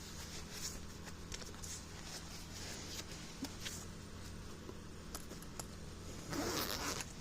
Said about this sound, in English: I'm zipping that up.